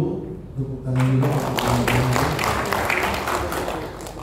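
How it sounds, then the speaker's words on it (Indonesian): Applause from an audience at a PWI Riau journalists' event, a loud, dense wash of clapping that swells in after a brief spoken announcement and continues steadily to the end. "tepuk tangan juga"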